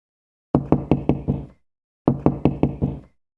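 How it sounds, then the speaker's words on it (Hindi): Someone raps on a door in a cartoon in two loud, close bursts of five quick knocks each, with a short silent pause between the bursts. "अचानक दरवाजा किसी ने खटखटाया।"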